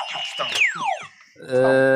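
Quiz buzzer in a French Twitch livestream quiz game, a loud sustained harmonic buzz that rings out alone after a burst of excited talk and sliding electronic whoops.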